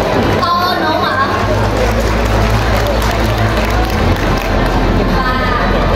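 A crowd at a Vinhomes apartment sales event in Vietnam claps, a dense patter of applause rising and swelling with people talking over it, close and loud.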